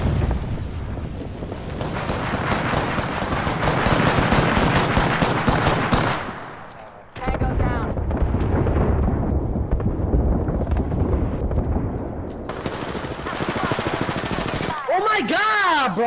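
Apex Legends gameplay packed with dense, sustained gunfire and heavy booms from a grenade blast, loud and continuous, with a brief lull partway through and a warbling electronic game effect at the end.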